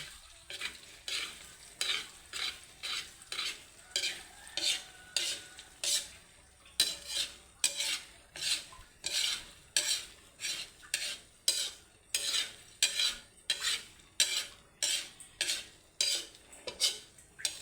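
Fried rice stirred in an oily pan with a metal utensil, a close, loud run of rhythmic scraping strokes repeating about once a second over a soft sizzle, with no voices.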